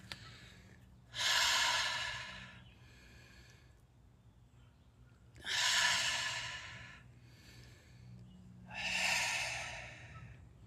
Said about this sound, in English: So you're gonna breathe in, hold, and release out your mouth.